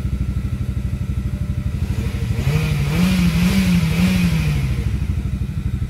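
A car's engine, just jump-started from a Forza 350 scooter, idles with a rhythmic clatter, then revs up smoothly for a couple of seconds before settling back to a steady idle, loud and close.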